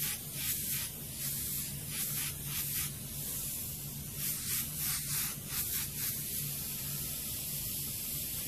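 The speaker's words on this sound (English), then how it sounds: "the closer to the foreground I get, the sharper I try and keep my airbrush strokes." Airbrush spraying paint in short, sharp strokes on a painting, a steady close hiss with brief pulses of stronger spray, no talking.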